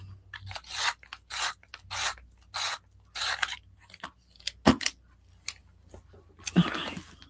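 Colored pencil in true blue 105 being sharpened, a series of short rasping, scraping bursts with brief pauses between them, close and fairly quiet, with a sharper click near the end.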